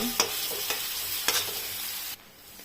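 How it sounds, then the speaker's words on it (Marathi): Onion frying in oil in a kadhai sizzles steadily, with a few sharp stirring clicks against the pan, before the sound drops away abruptly near the end; no voices. "कांदा आपला तळलेला आहे"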